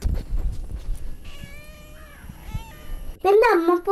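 Newborn kittens produce thin, high meows, a few short cries and then one louder, closer meow near the end, with some low background noise.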